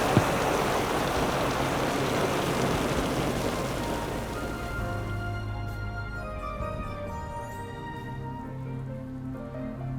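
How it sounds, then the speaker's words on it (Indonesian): Heavy midnight rain pours down in a steady close hiss for the first half, then thins into softer dripping with a low tonal hum and faint musical tones rising beneath it. "Tengah malam hujan-hujanan."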